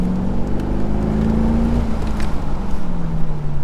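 A 2001 Corvette engine on a race track, loud and close, revs climbing steadily under throttle and then dropping back a little as the tone eases lower, over heavy road and wind roar.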